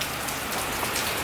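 Steady rain pours down at an outdoor shooting range, a dense, even hiss of drops striking surfaces close by with no voices.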